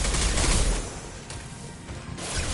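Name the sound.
gunfire in video game Mass Effect 2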